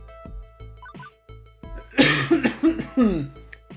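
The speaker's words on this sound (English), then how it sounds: "Sorry I'm coughing so much, damn." Several harsh, raspy coughs burst out in quick succession, loud and close, after a stretch of quieter voiced sounds.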